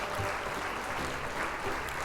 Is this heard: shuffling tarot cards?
no